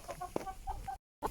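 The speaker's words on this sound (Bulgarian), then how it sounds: "Мили кокошки и най-вече петли" Hens and roosters clucking at close range on a village farm, a string of short repeated clucks with one sharper squawk, briefly cut off before the clucking resumes.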